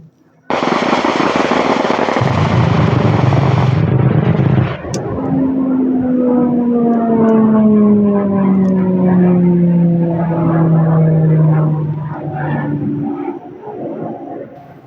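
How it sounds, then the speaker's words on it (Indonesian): A fighter warplane roars close overhead in a wartime bombing setting, a loud broadband rush giving way to a descending, whining drone as it passes and fades. "Hari ini sebuah pesawat pemburu, pesawat perang datang"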